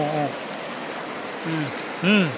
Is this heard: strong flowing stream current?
yes